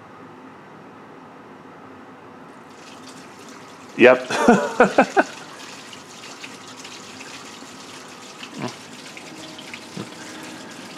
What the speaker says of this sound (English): I think you might hear some water come down here in a minute.